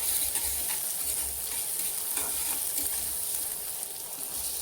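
Chopped vegetables fry in a little mustard oil in a pan, giving a steady, dense sizzle with faint stirring scrapes close by, continuous and even throughout.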